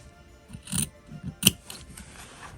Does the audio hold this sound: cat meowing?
no